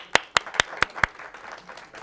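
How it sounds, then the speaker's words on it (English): Handclaps at a university talk on science and spirituality: five sharp, evenly spaced claps close by, then only faint, scattered claps trailing off. It sounds like a few people rather than a full crowd. "Round of applause for Maheen"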